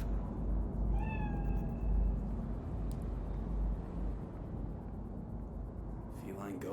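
A cat meows in Cyberpunk 2077, a short rising mew around the one-second mark with a faint cry near the end, set over a steady low hum of game ambience.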